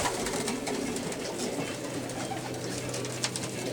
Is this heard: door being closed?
no